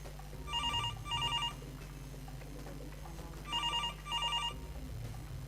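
A telephone in a school office rings twice in quick double-trill bursts, fairly quiet, against a steady low background hum, with no one speaking.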